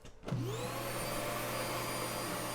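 A built-in floor vacuum in a 2023 XLR Nitro 427 toy hauler fifth wheel switches on with a click and spins up into a steady, close, loud whine that holds without pause.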